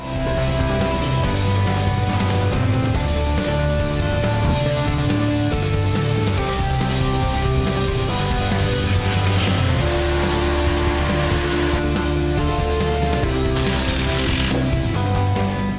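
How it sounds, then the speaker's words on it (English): A loud, continuous power drill whining and grinding steadily throughout, drilling a 7mm hole into a kitchen wall, with a harsh mechanical buzz and no pauses. "I drill a 7mm through hole, add a wall plug, then secure with a screw."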